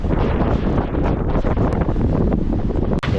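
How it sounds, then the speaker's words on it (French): Strong wind buffets the microphone aboard a sailboat at sea, running at six knots with two reefs and the jib, a loud continuous rumble with faint water sounds beneath. "le vent est à la hausse"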